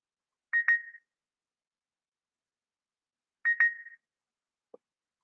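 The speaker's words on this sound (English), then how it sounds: "My phone's going ding dong, ding dong." Two short two-note electronic chimes from a phone notification sound about three seconds apart, each bright and brief, followed by a faint click in an otherwise quiet room.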